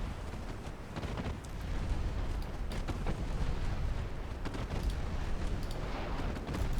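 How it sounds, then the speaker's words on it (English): Transport ships are destroyed in a naval strategy game, a continuous rumbling roar of blasts and crackling explosions with no clear break between them. "At least now you can watch some poor little transports getting completely destroyed"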